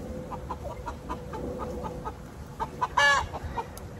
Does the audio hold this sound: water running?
no